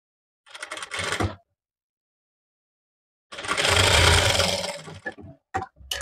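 A sewing machine stitching the lining of an umbrella-cut frock, running in a short burst, pausing, then running in a longer steady whir before a few brief clicks, heard close.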